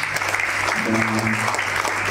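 A church congregation applauds together at a morning worship service, a steady wash of clapping with a brief sustained tone or hum rising in the middle.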